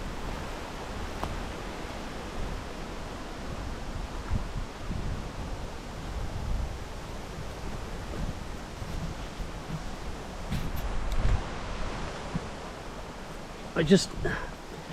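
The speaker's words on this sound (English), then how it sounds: "Just hear that wind today, hey?" Steady wind rushes and buffets the microphone on the Castleman Trailway hiking path in East Dorset, England. The broad, continuous roar rises and falls gently, with a few faint rustles near the end.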